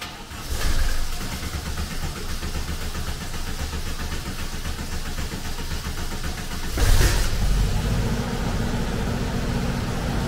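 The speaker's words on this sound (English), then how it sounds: "Now it'll take a bit of cranking to get started." A VW Camper engine cranks on the starter with a steady, churning drone, then catches about two-thirds of the way through with a louder burst and settles into a rough idle, recorded close with no talk.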